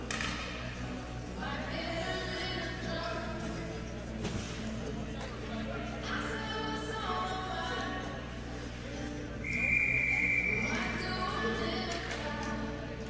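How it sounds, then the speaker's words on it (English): A referee's whistle stops play at an ACHA college ice hockey game between Boise State and Weber State, giving one short, clear blast over constant arena crowd murmur and thuds, with a commentator talking. "so we'll get a whistle here and a stoppage"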